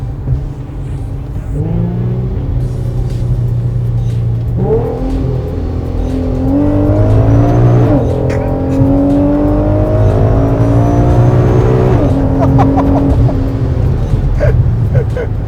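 A 600+ whp Infiniti Q50 with a 3.7L engine accelerates hard on a rural road by cornfields, its loud engine revving up through several gear changes in rising sweeps, heard from inside the car.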